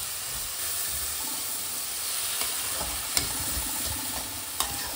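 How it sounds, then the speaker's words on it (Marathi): A pumpkin and jaggery mixture for gharge being stirred in a hot pan, a steady sizzling hiss with occasional soft scrapes of the spoon, close and continuous, no talking. "आणि हे पूर्ण आता छान ढवळून"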